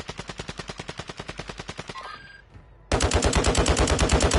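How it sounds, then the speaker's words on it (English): Automatic gunfire in a multiplayer shooter game, a fast steady string of loud shots, a brief pause, then an even heavier, denser burst of rapid fire. "What are y'all shooting at right now?"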